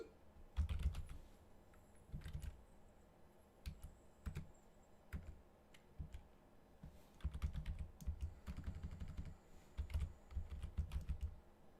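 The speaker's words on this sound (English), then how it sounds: "What am I typing in here?" Someone types commands on a computer keyboard while playing the old adventure game Hugo's House of Horrors, bursts of quiet clicking keystrokes separated by short pauses, close and alone.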